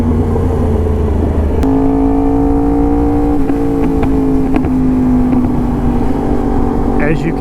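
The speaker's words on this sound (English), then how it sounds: "As you can hear, I have the Austin Racing replica exhaust on this bike." A 2022 Yamaha MT-10 SP motorcycle fitted with an Austin Racing replica exhaust, running rich and untuned, holds a loud, steady engine drone with a rising rev midway, heard up close in the wind without speech.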